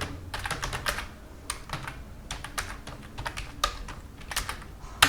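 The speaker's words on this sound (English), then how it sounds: "Then I will type my username." A username being typed on a computer keyboard, with quick runs of close key clicks in uneven bursts broken by short pauses, steady and moderately loud.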